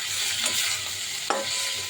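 Ivy gourd and potato pieces frying in a pan, giving a steady close sizzle with faint scraping and one sharp knock of a utensil near the end, no voices.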